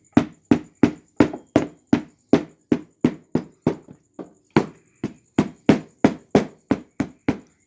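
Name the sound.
hammer tapping under model railway board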